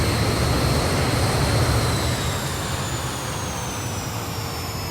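A BAE Hawk Red Arrows jet in Microsoft Flight Simulator roars at high thrust, a loud continuous engine rush with a whining tone slowly falling in pitch and easing slightly in volume.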